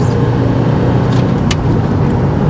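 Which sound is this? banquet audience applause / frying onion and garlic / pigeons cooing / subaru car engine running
subaru car engine running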